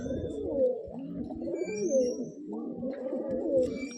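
Several pigeons at a pigeon house coo steadily in overlapping, rolling calls, close and fairly loud, with faint chirps above and no talk.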